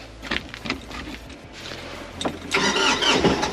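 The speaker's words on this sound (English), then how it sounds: "Let's give it a shot and try starting it." A snowed-in tractor's engine cranks in rough bursts, then catches and rises to a louder, steady running roar in the last second, close by with no talk.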